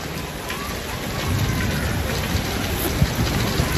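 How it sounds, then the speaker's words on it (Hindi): The first summer rain falls in a steady, dense hiss on surrounding surfaces, with a single low thump near the end. "गर्मी की पहली बारिश"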